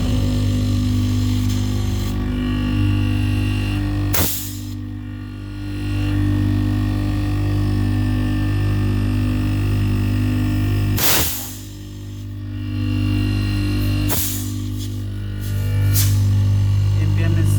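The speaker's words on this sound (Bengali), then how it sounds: "এখন কম্প্রেসারটা আমরা চালাই দেখাবো এবং এই যে দেখছেন ঝালাই করা কম্প্রেসারে আমরা চালাইতেছি।" A rotary compressor, newly welded and with its two springs replaced, runs with a steady loud low hum and pulsing throb, broken by a few sharp clicks.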